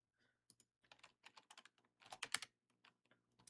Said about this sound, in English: I'm typing a bunch of numbers.